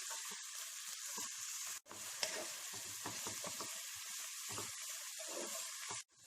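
Onions sizzle and crackle in a hot pan over a high flame, browning to golden, a steady frying hiss with occasional stirring scrapes, close up and without speech.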